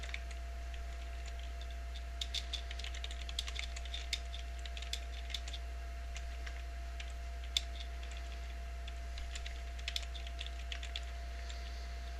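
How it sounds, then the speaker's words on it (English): Light, quick clicks of typing on a computer keyboard, faint and irregular, over a steady electrical hum with no talking. "Sorry, was typing on Twitter."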